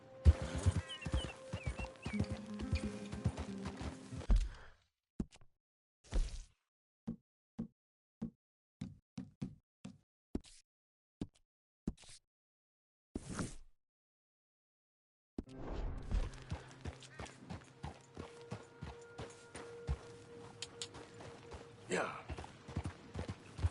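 Horse hooves in a video game: bursts of rhythmic clip-clop at the start and end, isolated knocking hoof hits in a quieter middle stretch, with someone speaking over parts.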